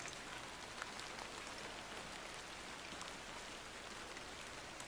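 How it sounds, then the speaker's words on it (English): Steady in-game rain with fog in the video game Incantamentum, set in rainy London, a continuous dense hiss of falling drops at even loudness with no voices. "It's raining and foggy."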